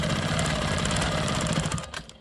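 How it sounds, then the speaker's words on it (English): A Quilt Maker Pro 20 quilting machine stitches a line in one steady, rapid mechanical run that stops near the end, close and fairly loud. "I'm going to go ahead and quilt this line"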